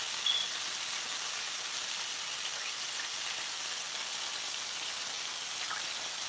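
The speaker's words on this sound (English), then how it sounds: "It's frying a little bit right there." Chicken wings frying in olive oil in a skillet give off a steady, soft crackling sizzle, faint and even throughout with no voices.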